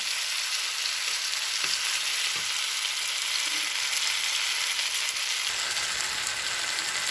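Steady, hissing sizzle of butter frying in a pan, continuous and fairly close, with a few faint taps of a utensil.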